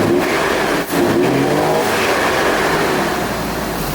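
A Jaguar engine, one V8-swapped and one stock V12, runs loud and near with a steady, rough rumbling drone that briefly dips around one second before continuing strongly.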